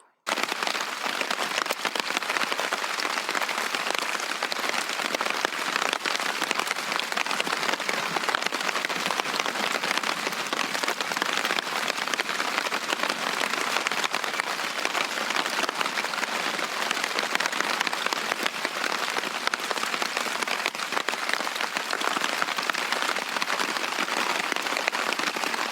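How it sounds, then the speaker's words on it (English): Steady rain drums on a tent in dense, even patter, a continuous close hiss of drops with no breaks for the whole stretch. "when I woke up next morning, it was still raining"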